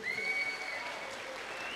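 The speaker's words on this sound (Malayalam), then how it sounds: "ആ കാണുമെങ്കിൽ എല്ലാരും ഒരു കൈയടിച്ചേ." A wedding audience claps together in a steady, sustained round of applause at moderate distance, with a faint tone lingering underneath and no clear talking.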